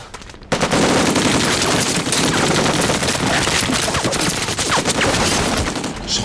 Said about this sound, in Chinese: 这枪声是从是一栋后山打来的